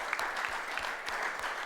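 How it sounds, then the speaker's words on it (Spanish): Brief, fairly quiet applause from a colloquium audience greeting bullfighter Eduardo Dávila Miura during the Corridas Generales 2022 talks, a soft continuous patter of clapping with a few sharper claps standing out. "un aplauso para él"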